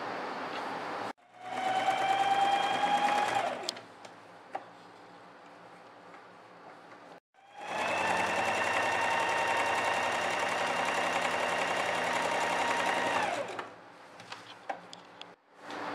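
A sewing machine runs in two long bursts while stitching the shoulder seam of a red outfit, its steady mechanical whir close and loud, with a short pause between runs and faint handling sounds around them.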